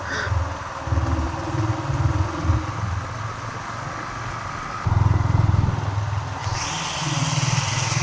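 Motorbike carrying riders along a road toward Bishalakshitala, its engine a steady low drone throughout with a louder surge partway, no talking.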